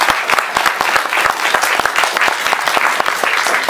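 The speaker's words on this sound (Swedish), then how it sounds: "Vi tar en applåd." Audience applause after a talk and question session on the costs of immigration, a dense run of close, sharp handclaps from a crowd, steady and loud for the whole stretch.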